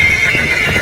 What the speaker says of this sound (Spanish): Uno de los sonidos más terribles del mundo, el chillido de un caballo